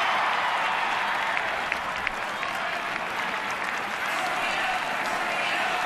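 Big home crowd at a Marlins at Nationals baseball game cheering steadily in the stadium, a broad, sustained roar with scattered claps and whistles running the whole time.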